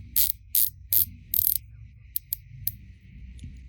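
Unidirectional dive bezel on a Clean Factory "Starbucks" green diver watch ratchets in crisp, sharp clicks: four spaced turns, then a few lighter single clicks, close up with no talking.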